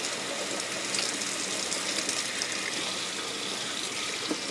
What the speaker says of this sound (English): I'm trying to get the water up to at least the hottest temperature that'll come out of the tap